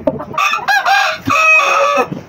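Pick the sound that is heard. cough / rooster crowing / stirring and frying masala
rooster crowing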